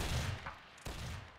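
Volleys of musket fire rattle through a Napoleonic Wars video game battle, a dense, crackling burst of overlapping shots followed by a brief lull and a second ragged fusillade, loud and close with no talk.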